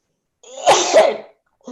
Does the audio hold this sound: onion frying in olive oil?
no